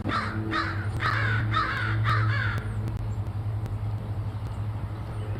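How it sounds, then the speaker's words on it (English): A run of loud, close crow caws repeats in a quick rhythm among chickadees and scrub jays, then stops, leaving a steady low hum and faint distant bird calls. "Crows, chickadees, scrub jays."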